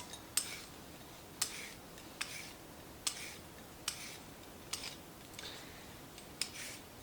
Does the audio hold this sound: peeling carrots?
yes